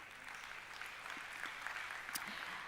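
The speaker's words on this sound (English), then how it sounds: "Another round of applause for Helicon," An audience at a blockchain conference live event applauds, producing a steady, fairly faint wash of many clapping hands heard from a distance, with no speech over it.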